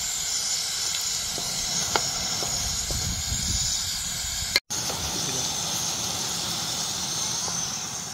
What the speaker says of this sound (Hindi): इधर शिमला मिर्च और टमाटर ये भी नाल ही ऐड करी